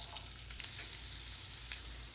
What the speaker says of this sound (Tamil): சீரகம் பொரிஞ்சதுக்கப்புறம் எடுத்து வச்சுருக்கிற வெங்காயத்தை ஆட் பண்ணிக்கலாம்.